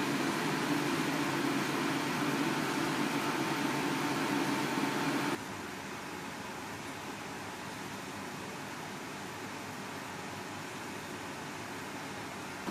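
A portable mobile air conditioner runs with a steady, even whooshing hum that drops to a quieter, softer drone about five seconds in and continues without talk.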